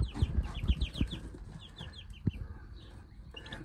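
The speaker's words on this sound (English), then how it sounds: "We got 6 turkeys going on and then 4 companion chicks." Newly hatched baby turkey poults and companion chicks peep in quick, high, repeated chirps close by, with soft scuffling and a thump underneath.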